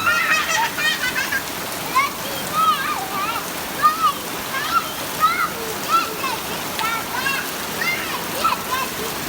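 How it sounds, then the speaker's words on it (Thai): Heavy rain falls steadily in a flooding house, a dense hiss and splatter throughout, while voices talk loudly over it in short bursts. "สถานการณ์ฝนตก"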